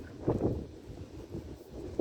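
Low, gusty rumbles of wind buffet the microphone in uneven bursts outdoors while fishing, fairly faint overall.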